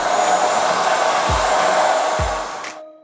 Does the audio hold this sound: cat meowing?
no